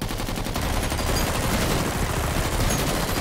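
Gunfire from Metal Gear Solid V: The Phantom Pain, a dense crackle of rapid shots running steadily through the whole stretch with no talk over it.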